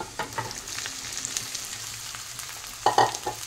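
Chopped onions frying in a pan just as chopped okra goes in, a soft steady sizzle with a few scraping stirs and a louder clatter near the end, no voices.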